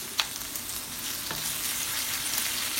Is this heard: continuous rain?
no